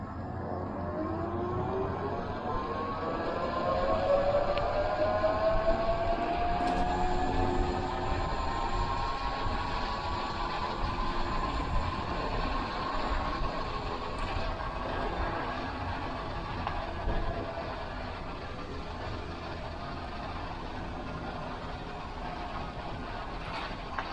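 A 72-volt homemade electric bike runs flat out on throttle over flat ground, giving a steady loud rush of wind and road noise with a rising motor whine throughout.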